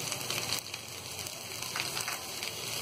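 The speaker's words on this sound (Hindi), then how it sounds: "तो सब्जियां यहाँ हल्की सी फ्राई हो गई हैं। अब डाल देंगे हम इसमें ये आलू" Chopped vegetables and potatoes fry in a pan, a continuous soft hiss and crackle with a few brief louder pops, close and steady, no voices.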